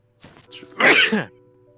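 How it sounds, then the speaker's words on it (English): A single sudden sneeze bursts close into a headset microphone after some brief throat noises, loud and sharp, then cuts off abruptly. "go away from your mic if you're gonna sneeze"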